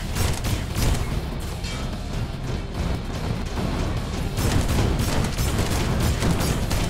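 Rapid gunfire and ricocheting bullets from the shooter game Mothergunship, a dense, continuous barrage of shots and impacts that stays loud throughout.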